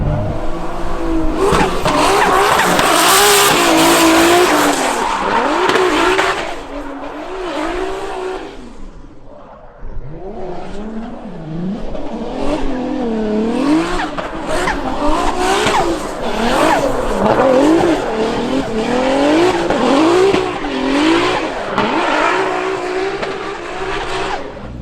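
A Formula Drift car screams past at high revs, tires squealing in long skids, with a brief lull before the engine bounces off the limiter again, loud and close.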